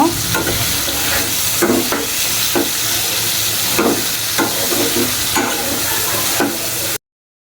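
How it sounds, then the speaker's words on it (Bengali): Chicken frying with onions in a pan for momo stuffing, a steady loud sizzle broken by repeated scraping strokes of a spoon stirring the mixture, with no voices. "চিকেনটা দিয়ে পেঁয়াজের সাথে একটু ভাজা ভাজা করে নেব"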